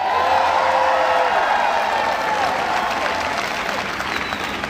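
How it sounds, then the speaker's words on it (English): Presidential speech crowd breaking into steady, loud applause mixed with scattered cheers and whoops, a dense continuous wash of clapping that holds for the full stretch with a faint voice underneath. "Give him a round of applause."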